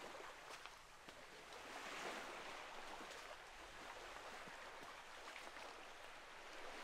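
Choppy ocean water washes and slaps in a continuous broadband rush, with small splashes and wind noise from a boat out at sea.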